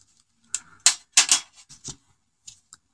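A rubber eraser scrubs across paper to lift coloured pencil from a drawing of a nose, heard as several short, close, dry rubbing strokes in uneven bursts with small gaps between them.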